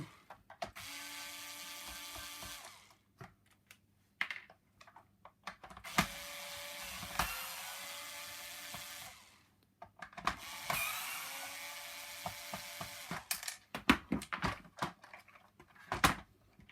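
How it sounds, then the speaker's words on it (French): A Lux S115 vacuum cleaner floor brush is being unscrewed, heard as several bursts of a whirring, ratcheting power screwdriver separated by short pauses, with clicks and handling knocks close by and no talking. "Nous dévissons les vis."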